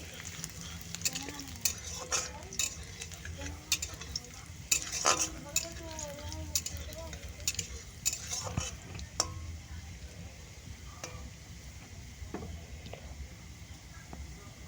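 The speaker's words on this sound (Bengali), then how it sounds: "কড়ার মধ্যে তেল দিয়ে প্রথমেই দিয়ে দিব রসুন কুচি" Chopped garlic frying in oil in a wok, a soft steady sizzle with intermittent stirring scrapes and light clinks of a utensil against the pan, close and fairly quiet throughout.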